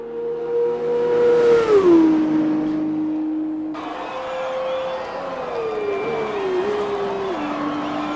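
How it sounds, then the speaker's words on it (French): Formula 2 car in a racing video game locking a wheel under braking, a loud engine note sliding down in pitch followed by a sharp shift to a new tone, continuous and close, with no voices. "le blocage de roue"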